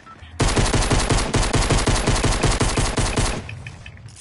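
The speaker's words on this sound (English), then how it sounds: "Revolver." Rapid, evenly spaced gunshots from a video-game revolver fire about fifteen times in a loud, sustained burst, then stop abruptly, leaving a quiet room tone.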